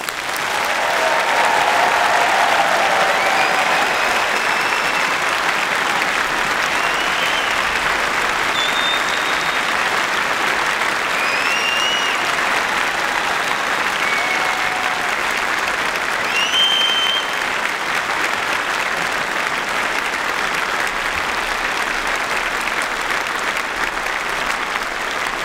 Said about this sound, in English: can I ask for one last big round of applause for our new